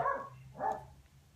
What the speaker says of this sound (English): And that's my dog barking, which is really handy.